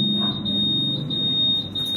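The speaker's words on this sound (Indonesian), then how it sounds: "alarm siapa sih?" An alarm sounds a loud, steady high-pitched electronic tone throughout, like a smoke detector, with no speech over it.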